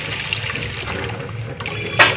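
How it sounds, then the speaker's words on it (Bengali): Water poured into a pan of frying egg, a short close rush of liquid hissing and bubbling, ending in a brief louder splash. "এখন এর মধ্যে আমি জল দিয়ে দিচ্ছি,"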